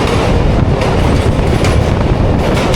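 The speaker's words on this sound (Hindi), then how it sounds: "मलीर रिवर से पास हो रही है हमारी ट्रेन।" The Awam Express passenger train runs on the rails near Karachi's Malir River, a loud continuous rumble and clatter of wheels heard from on board.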